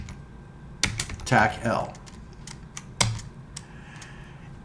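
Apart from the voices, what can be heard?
computer keyboard typing a sudo command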